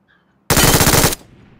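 Automatic weapon fire in PUBG Mobile: one loud, rapid burst lasting under a second that starts abruptly after near silence and cuts off sharply, leaving a short fading tail. No voices are heard.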